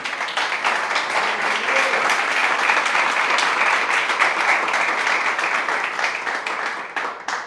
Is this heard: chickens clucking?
no